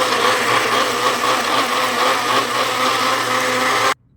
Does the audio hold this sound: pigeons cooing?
no